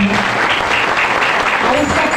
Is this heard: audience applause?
yes